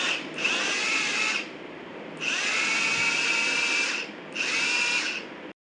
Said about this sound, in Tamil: மறுபடியும் நான் வந்து ஆன் பண்ணுறேன்.